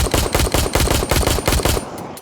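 Sustained automatic M4 rifle fire in Gray Zone Warfare, a rapid, loud, evenly spaced burst of shots running for about two seconds before cutting off into a short tail of echo.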